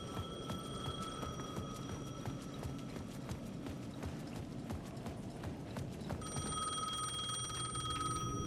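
In the video game Alan Wake 2, a payphone at the edge of a plaza rings with a steady tonal bell over a continuous busy ambient bed, growing slightly stronger near the end, with nobody speaking.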